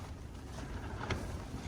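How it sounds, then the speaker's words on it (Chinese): Strong gusty wind blowing against a tent pitched in the wilderness under a railway bridge, a steady broadband rush with slight swells and no voices. "说实话，今天的风啊可不小啊"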